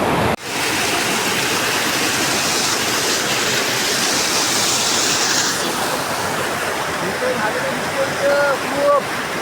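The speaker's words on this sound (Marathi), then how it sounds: "बघू शकता पाण्याचा पण फोर्स लय येतो इथं" Strong rushing water flowing hard at a rainy-season fishing spot, a loud continuous roar close by that holds steady throughout, with faint voices briefly under the noise near the end.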